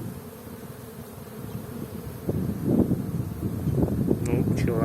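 Agitated honeybees drone around an open beehive after a night of rain, a steady close buzz with individual bees zipping past the microphone and light wind noise, a voice murmuring at times.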